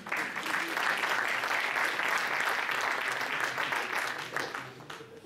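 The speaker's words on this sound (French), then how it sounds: "Vous pouvez applaudir si vous voulez aussi." A conference audience claps loudly and continuously in a dense, even wash of applause that carries on without a break and thins out only at the very end.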